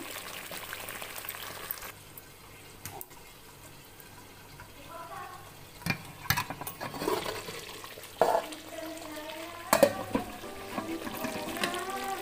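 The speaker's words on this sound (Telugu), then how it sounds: "మూత పెట్టేసుకున్నాను ఇప్పుడు బాగా ఉడు ఉడుకుతూ ఉందండి" Gutti vankaya, a stuffed brinjal curry, bubbling in a covered pan, a soft steady simmer with faint clinks and stirring noises rising in the second half.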